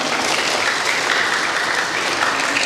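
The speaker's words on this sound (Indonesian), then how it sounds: "Tepuk tangan buat semuanya." An audience at an Islamic elementary school graduation and Qur'an completion ceremony in Semarang claps loudly and steadily, with dense, sustained applause filling the hall throughout.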